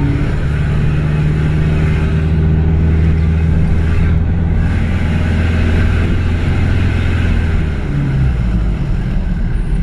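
A 4x4 with an automatic gearbox drives along with its engine droning steadily and loudly throughout, a constant low hum that shifts pitch slightly near the end.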